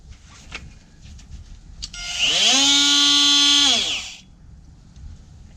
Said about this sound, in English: this is a multi-tool.